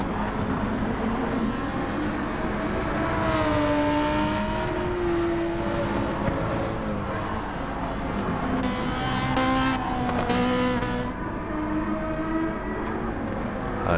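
Race cars lap Suzuka in Gran Turismo 7. Several engines whine and sweep up and down in pitch as they pass and overlap, all continuous and fairly loud.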